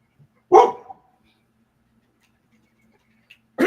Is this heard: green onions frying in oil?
no